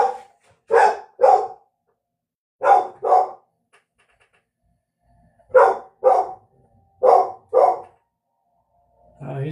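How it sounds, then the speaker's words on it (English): A dog barks in four paired bursts of two sharp woofs each, loud and close, separated by silent gaps, with a final bark starting at the very end. "I got a dog barking"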